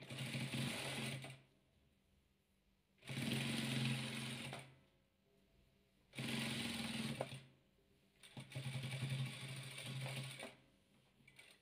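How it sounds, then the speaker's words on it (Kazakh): A sewing machine stitching white royal velour patchwork pieces together, running in four steady bursts of rapid mechanical whirring, each lasting about two seconds with short quiet pauses between, loud and close. "Енді 4-ші қабырғамызды тігіп жатырмыз ақ материал"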